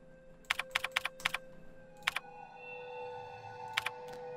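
Computer keyboard typing in Resident Evil 1 HD: a quick run of crisp keystrokes in short bursts, a pause, then another pair and a final few taps over a low game-ambience hum, with no talk.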